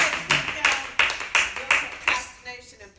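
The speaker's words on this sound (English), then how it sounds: "give her a round of applause" Audience at a motivational talk claps in a series of short, loud bursts of applause that swell and fade roughly every half second, then die away after about two and a half seconds.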